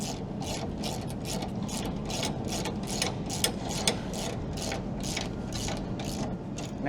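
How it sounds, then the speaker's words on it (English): A ratchet wrench tightens the rear mount bolts of an ATD Customs Contender bull bar onto a Ford Ranger Super Duty chassis side rail, giving a steady run of quick, evenly spaced clicks at close range with no talking. "I'm just going to tighten the rear mount to the side rail."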